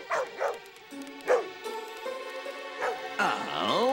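Several dog barks and yips in an animated fantasy film come in uneven bursts, mixed with other film sound and a rising tone near the end.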